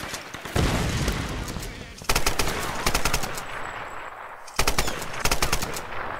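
Enemy gunfire in the Tomb Raider video game, with rapid automatic bursts that start suddenly at roughly 2 and 4.5 seconds over a constant loud wash of combat noise.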